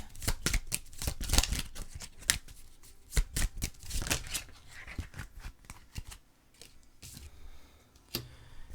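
Oracle cards are shuffled by hand in a rapid, continuous riffling patter, close and steady for several seconds, then slowing into a few separate flicks at the end.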